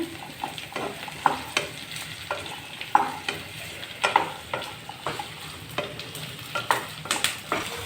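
Vegetables sizzle and fry with sautéed onions in a pan for a sweet potato, tomato and tamarind stew, with repeated stirring scrapes and spoon knocks breaking through a steady close frying hiss.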